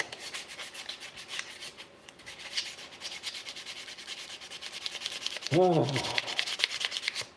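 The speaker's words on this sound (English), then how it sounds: "I'm sanding handles, so there's a lot of this going on" Leather head knife handles being sanded, with a steady abrasive rubbing that runs throughout at close range, and a brief burst of a voice joining near the end.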